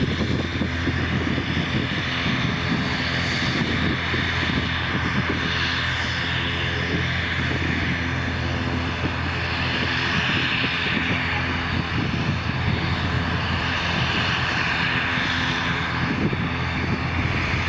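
An airliner lands on runway 03 at Lisbon airport with a loud, steady aircraft engine roar that persists throughout at close range.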